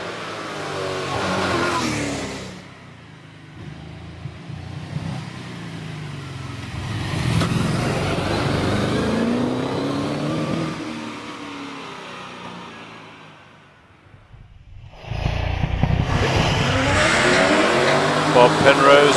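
A 720-horsepower race car accelerates hard up a hillclimb course, its engine roaring near and loud before fading briefly, then surging again as a commentator talks over it throughout.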